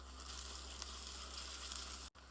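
Two medium chopped onions frying in a pan over ginger-garlic paste, a dense, steady sizzle at close range with a brief break near the end, no voices present.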